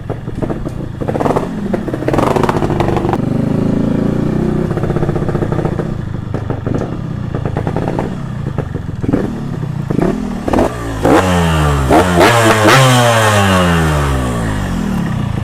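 A Honda motorcycle with an aftermarket exhaust revs repeatedly with rising and falling pitch, loud and close, the exhaust note sweeping up and down near the end.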